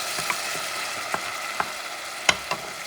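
Tomato sauce hitting a hot pan, a dense close sizzle and crackle with several short scraping or stirring clicks scattered through it, no talking.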